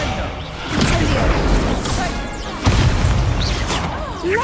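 Incendio fire spell cast in Hogwarts Legacy, a loud whooshing burst of flame followed by a second fiery blast, with dueling effects sweeping around it.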